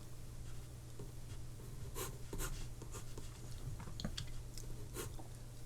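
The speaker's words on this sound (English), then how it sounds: "I'm now just drawing a rectangle." Pencil drawing a rectangle on paper for a portrait sketch, soft scratchy strokes in short bursts over a low steady hum, close and faint, with no voices.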